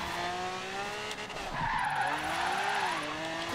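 In Forza Horizon 3, a car drifts with a sustained, wavering tire squeal over a droning engine whose pitch dips and climbs, loud and close, with no talk.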